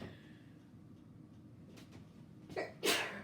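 A quiet room, then a short breathy buildup and one loud, sharp sneeze near the end.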